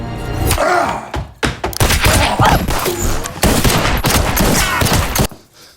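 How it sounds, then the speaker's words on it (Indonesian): Gunfire in a film scene, a rapid series of loud, close shots and heavy thuds with echoing impacts, dense bursts through most of the stretch before cutting off abruptly near the end. "Travis menembak ke arah dapur"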